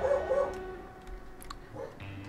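A dog barks a few times in the background, faint and somewhat distant, with short yappy bursts over a low steady hum.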